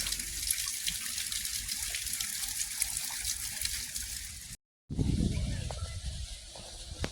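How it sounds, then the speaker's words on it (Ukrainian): Steady splashing water pours continuously from a fountain in an English garden with a bright hiss, briefly dropping out before resuming alongside a low rumble; no talking is heard. "якщо написано, що це вода, то буде литися вода"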